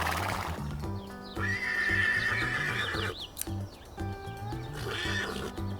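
A cartoon horse gives long, loud whinnies and snorts over light hoof clip-clops in an animated scene, heard close and clear with no talking.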